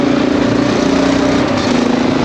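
A Honda XR650L motorcycle rides on noisy Kenda K270 tires, giving a steady, close engine drone mixed with continuous tire roar and no pauses or speech.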